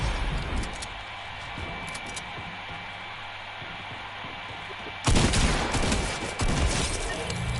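Video game gunfire crackles in rapid bursts against a steady background hum, growing louder and denser partway through.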